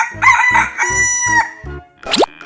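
A rooster crows a loud, clear cock-a-doodle-doo in a 3D animal video game, over a bouncy rhythmic backing and ending in a quick rising cartoon boing.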